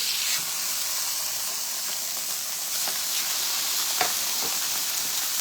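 A steak sears in a dry, oil-free preheated pot, giving a steady, loud broadband sizzle with a few sharper crackles and spits, no one talking.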